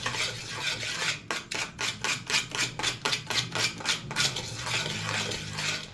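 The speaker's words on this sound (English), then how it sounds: "So you have to mix to remove those Nescafe to be mixed well." Batter is mixed in a bowl after Nescafe coffee is added for little beignets, a loud rhythmic run of scraping strokes, about a dozen quick even passes of a utensil against the bowl in the middle, with steadier stirring before and after.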